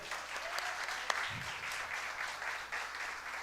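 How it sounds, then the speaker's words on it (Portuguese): A church congregation applauds steadily, a dense wash of many hands clapping at moderate distance, with no speech over it. "Vamos aplaudir Jesus pela vida dele"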